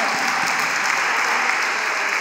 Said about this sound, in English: You all deserve a big round of applause